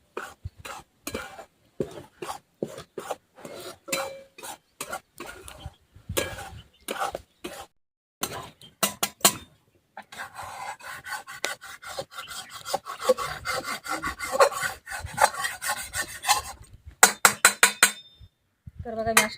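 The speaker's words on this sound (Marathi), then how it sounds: "कढई गरम असल्यामुळे ते पटकन कढईला असं खाली करप करपून जातं म्हणून पटकन असं ढवळत राहायचं पीठ" Flour stirred and scraped in a hot kadhai while roasting for methi laddu, a long run of rhythmic rasping scrapes of the spoon against the metal pan, growing denser and continuous midway.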